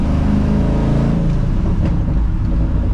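A 1971 Ford F-100 restomod with an LS3 V8 and aggressive cam burbles and rumbles loudly off throttle, a deep continuous drone heard close from inside the moving truck.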